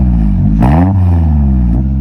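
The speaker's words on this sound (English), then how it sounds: "here's an example of me revving the car without the HIKEit X9 installed" A 2011 Scion tC engine revs once with no throttle controller fitted: a loud, close rise in pitch that swells, holds briefly and falls back toward idle, alone with no talking.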